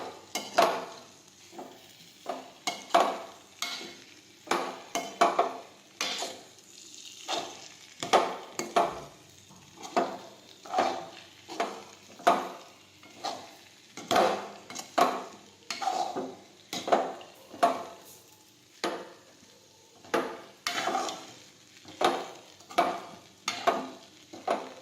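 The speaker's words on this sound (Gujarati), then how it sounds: "હવે આપણે મિક્સ કરી દઈશું આ રીતે।" Poha (flattened rice) with potatoes is stirred in a pan, a spoon scraping and tapping the metal in steady rhythmic strokes, close and moderately loud, with faint sizzling between strokes.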